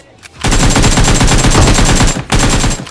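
Rapid automatic gunfire from a shooting video game, loud and continuous bursts after a brief quiet start, with a short pause before another burst near the end.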